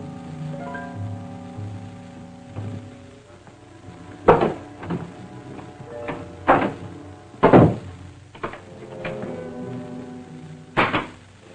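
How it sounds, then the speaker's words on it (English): A closet door is opened in an old serial, giving several sharp wooden thunks and bangs spaced over about eleven seconds, loud and close with no speech. "Open that closet door. Open it, I say."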